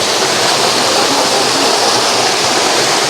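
Nonsuch Falls, a waterfall in Jamaica, pours in a loud, steady, close roar of rushing water with no break and no voices over it.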